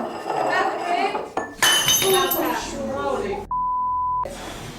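Glass flies off a table during a ghost hunt at Bodmin Jail and breaks with a sharp crash and scattering clinks amid excited voices, followed by a steady electronic beep.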